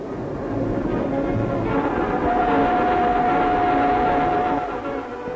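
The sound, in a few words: English train running on rail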